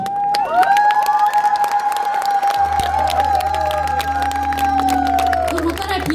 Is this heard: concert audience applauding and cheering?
yes